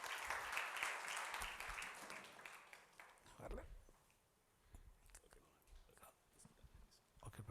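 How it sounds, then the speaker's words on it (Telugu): A church congregation claps to welcome a reverend pastor at a Sunday service, with loud, dense applause for the first few seconds that then thins out into scattered claps and murmuring. "ప్రేమతో చప్పట్లతో ఆహ్వానించుకుందాం"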